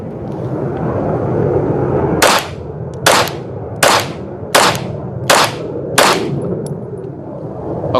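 A PSA Sabre Dagger pistol fires six sharp, loud shots at a steady pace of roughly one per second, each crack ringing briefly over a constant background hiss.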